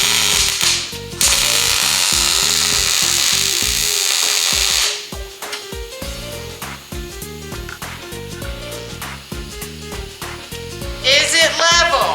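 Tack welds fix metal legs on a custom furniture piece in a hot-rod style shop, a loud crackling hiss lasting about four seconds, with mechanical clatter, talk and background music around it.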